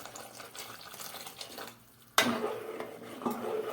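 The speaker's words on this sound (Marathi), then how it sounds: "आणि जरा पाणी टाकूया" Water is poured into a pot of boiling soya chunk curry. After a short clatter, a close, bright splash of pouring starts suddenly and runs on steadily to the end with no talk.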